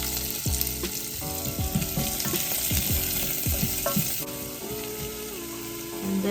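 Ginger, garlic and onion fry in olive oil, with a soft continuous sizzle and repeated scraping and tapping from a utensil stirring the pan up close.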